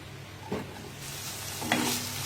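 Chicken pieces fry in ghee in a pan, giving a soft, steady sizzle with two brief louder scraping stirs.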